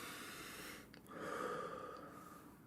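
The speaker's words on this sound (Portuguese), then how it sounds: "é o som da nossa respiração" A person breathes slowly in and out, close and soft, with a quiet airy inhale followed by a longer, steadier exhale and no talking.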